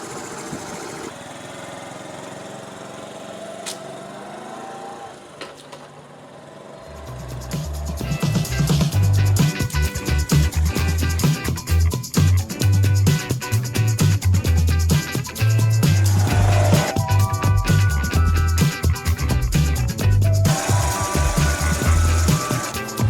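A 1982 Honda Passport C70 motorcycle on a test ride, a quieter start with faint running before the small engine rises to a loud, steady buzzing drone with shifting revs and rattling vibration that continues to the end.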